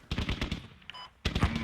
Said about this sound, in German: ich höre immer nur Schüsse und so weiter